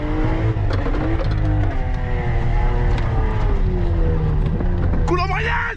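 A car engine during a driving lesson, with the clutch being worked. A continuous hum rises and falls in pitch as the revs shift, and a voice can be heard over it.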